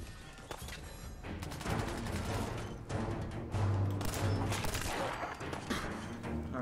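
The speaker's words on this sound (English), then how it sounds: "Oh, where's the other guy firing?" Sustained volleys of rapid gunfire in a VR shooter, dense and crackling, some shots nearer and louder, with several overlapping bursts.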